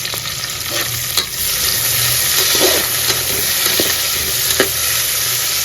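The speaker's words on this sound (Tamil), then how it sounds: "இந்த வெங்காயத்தை நல்லா சிவப்பாகிற வரைக்கும் வதக்கிக்கலாம்" Onions sauté in a pan for vegetable pulao, giving a steady, close oily sizzle. Intermittent scraping and stirring clicks run through the sizzle, and no one speaks.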